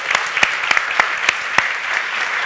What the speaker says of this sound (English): thank you very much with a very warm applause